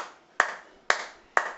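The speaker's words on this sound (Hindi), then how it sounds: "सबके लिए हम लोग तालियां बजाएंगे।" Three sharp, evenly spaced hand claps ring out close and fairly quiet, each one decaying quickly into a short room echo.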